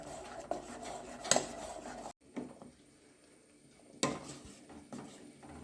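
A jackfruit mixture stirred in a metal cooking pot, with a few sharp spoon clanks against the rim and softer scraping between them, close and fairly quiet.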